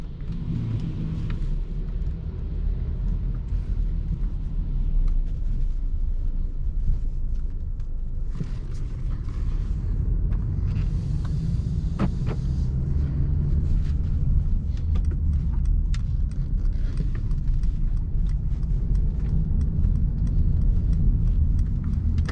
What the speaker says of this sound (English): Now you may hear a little bit of cabin noise